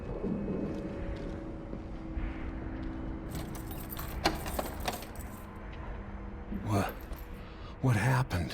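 Key jingle as a key is picked up in Dishonored 2, a brief metallic jangle standing out near the end over a low ambient game background with scattered clinks; speech is heard in the scene.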